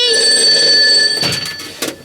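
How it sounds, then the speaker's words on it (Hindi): A telephone rings with a loud, bright electronic trill that sustains briefly, then breaks off into a few short clattering bursts. "फोन उठाओ भाई।"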